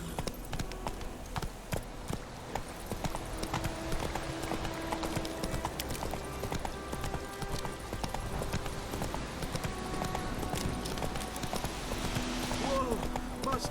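Roach, a horse in the video game Witcher 3, gallops with a steady, rapid clip-clop of hooves that continues throughout, layered with voices and ambient game sound.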